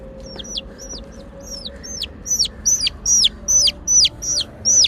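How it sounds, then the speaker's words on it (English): A chicken clucks and squawks close by, a series of about ten rising, sharp calls growing louder, heard alone over faint background hum. "So, here's the chicken."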